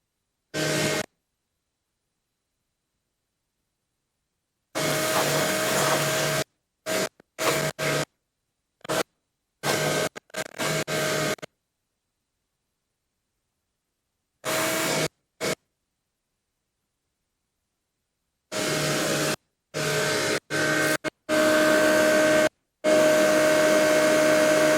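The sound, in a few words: shop vacuum cleaner running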